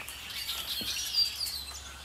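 A flock of blackbirds chirps outdoors on a cool fall day in Michigan, thin continuous chatter at a moderate distance, with no one talking.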